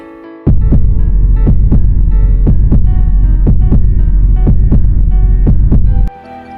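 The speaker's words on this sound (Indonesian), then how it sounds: "Dia dapat mendengar debaran jantung suaminya berdentum sangat kencang." Pounding heartbeat effect, loud and steady, with about eleven deep thumps at an even pace over a low throbbing hum, which stops abruptly near the end.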